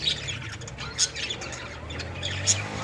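Caged lovebirds chirp and squawk close by, with sharp high calls repeating at irregular moments over a low background hum, and no talking.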